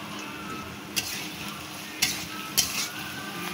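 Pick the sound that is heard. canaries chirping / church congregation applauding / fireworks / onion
onion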